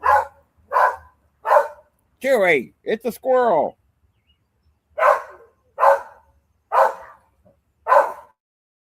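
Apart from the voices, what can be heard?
dogs barking at a squirrel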